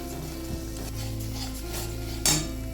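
A spatula stirs katla fish korma curry with yogurt and cashews in a pan over a low gas flame, soft sizzling and scraping under a steady hum, ending in one sharper metallic scrape.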